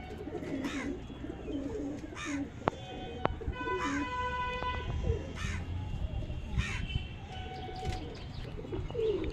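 A male Kalshira domestic pigeon coos in short repeated bursts, close and clear, while crows caw and other birds chirp around it.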